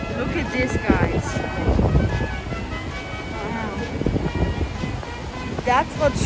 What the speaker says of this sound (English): Look at the waves. They're so high.